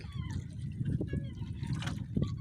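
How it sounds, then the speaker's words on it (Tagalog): Steady rushing and trickling of flowing river current at night, a continuous close watery wash with a faint voice mixed in. "Basta yung agos ng tubig."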